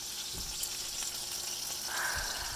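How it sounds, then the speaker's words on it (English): Meat for barbacoa searing in hot oil in a pan, a steady close hiss and crackle that runs without a break, with a few soft scrapes. "I'm going to sear it in some hot oil on each side of the meat"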